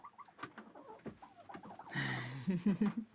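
A goose and other poultry cluck and murmur nearby in a coop, growing louder and more insistent toward the end, with soft rustling in between.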